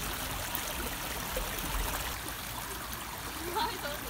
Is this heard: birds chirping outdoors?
no